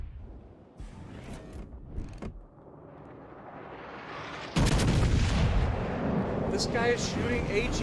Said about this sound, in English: That is the only thing I can think that would justify so many people shooting HE out of these battleships.